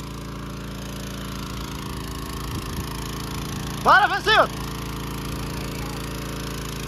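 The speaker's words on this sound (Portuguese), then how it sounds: "Motor ligado de novo e tome água pra fora" A motor pump pumping water out of a pool runs in a steady, constant buzzing drone throughout, with a person's shout briefly breaking over it midway.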